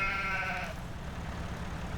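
A sheep in a survival roleplay video game bleats once in a short wavering cry that fades out, followed by steady low ambient rumble and background noise.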